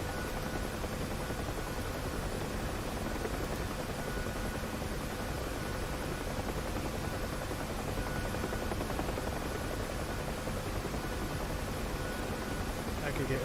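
A Huey helicopter flying in the DCS combat flight simulator, a steady, dense rotor and turbine roar that runs unbroken throughout at an even level.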